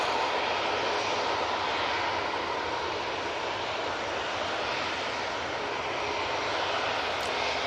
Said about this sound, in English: Jet 2 737.